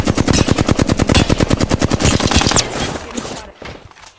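Rapid automatic weapon fire in an Apex Legends match, a loud evenly spaced burst of about thirty shots that rattles for two and a half seconds, then trails off into scattered echoes and quiet.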